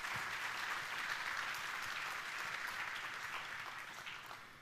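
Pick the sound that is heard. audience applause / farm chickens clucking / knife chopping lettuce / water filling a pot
audience applause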